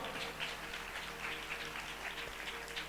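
Faint, steady applause from a crowd, a soft continuous patter of clapping heard at a distance.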